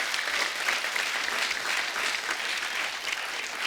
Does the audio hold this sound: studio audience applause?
yes